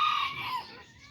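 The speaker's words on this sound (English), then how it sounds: "He's gonna be another semental little rooster out here for all the chickens I have outside running around." A small young rooster crows once, close and loud, among a flock of chickens; the single crow lasts about a second and fades at the end.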